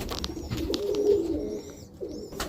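Roller pigeon cooing inside a loft, a close, soft burbling coo that swells and fades over a couple of seconds, with faint chirps from other birds in the background.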